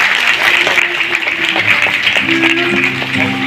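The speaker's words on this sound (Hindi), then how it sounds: "भरपूर तालियां जनाब" Steady crowd applause for a chief guest at a ceremony, continuous clapping held at an even level over a low murmur of voices and some faint tonal background sound.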